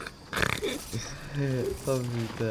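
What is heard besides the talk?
pigs grunting and oinking in a video game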